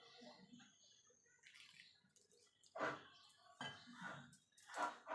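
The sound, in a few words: adding water bit by bit to flour to make dough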